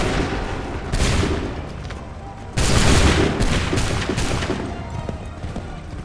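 Musket volleys in Assassin's Creed III burst out loud and ragged, one blast near the start and a heavier barrage midway, over a constant rumble of battlefield gunfire.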